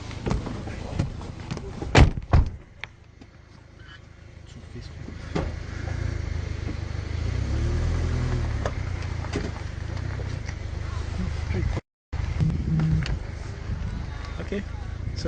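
A vehicle drives down a site road at a residential estate under inspection, with a steady low engine and road rumble throughout, bumps and knocks early on, and a brief dropout near the end.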